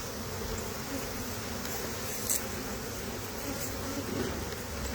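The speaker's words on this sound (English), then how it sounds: "now that I've really thoroughly upset this hive" A dense, steady drone of many honey bees buzzing around a disturbed hive, close and continuous, with no break in the swarm's hum.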